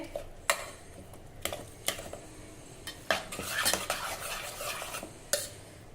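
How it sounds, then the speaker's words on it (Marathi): A ladle mashes cooked wheat inside a pressure cooker, giving sharp metal clanks and knocks at irregular intervals, with a brief stretch of denser scraping in between; no voices. "हे शिजवलेले गहू मी या कुकरमध्ये काढून घेतले आता हे डावाच्या साह्याने आपल्याला नीट हे असे घोटून घ्यायचे आहे"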